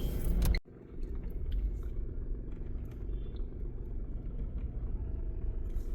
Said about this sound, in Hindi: ये सब पहाड़ों की तरफ, या मतलब मोस्टली तो कैची धाम की तरफ जाने वाली गाड़ियाँ हैं